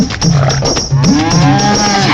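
A buffalo lows loudly in a long, sustained bellow with a few rising and falling shifts in pitch, close by and alone, with no talk over it.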